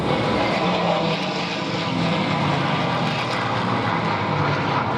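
Sustained, steady roar of a North American P-51 Mustang propeller aircraft flying at an air show, a loud broadband engine and prop drone holding level throughout with no speech.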